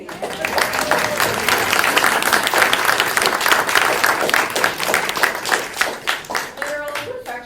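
An audience applauds a flute and piano performance, dense clapping swelling and holding for several seconds before thinning out into scattered claps and a few voices.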